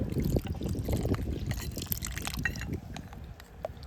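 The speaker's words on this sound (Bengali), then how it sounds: "যে পাতিলেবু সিদ্ধ করেছিলাম যে জলটা সেই জলটা এইভাবে দিয়ে দেব" Water in which lemon peels were boiled is poured into a bowl with a steady, close splashing trickle that runs throughout without a break.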